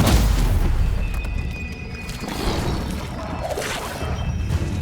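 Stupefy spell cast and impact in Hogwarts Legacy, a burst of magical booming crashes and whooshing over continuous game noise, loud throughout with several overlapping hits.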